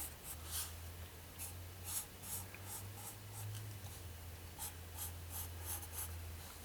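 A pen scratches across paper while a crude diagram is sketched, quiet rhythmic strokes in short bursts over a faint steady hum, with no talking.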